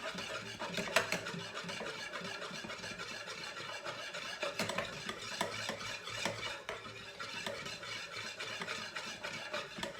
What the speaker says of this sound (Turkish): Mayamın öncelikle şöyle çözülmesini sağlayacağım.